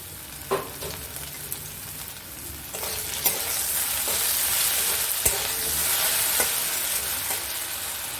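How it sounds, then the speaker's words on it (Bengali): Potatoes sizzle in a pan with occasional scraping stirs and clinks, the frying growing louder and denser partway through. "এটা ভাজা ভাজা হয়ে যাক"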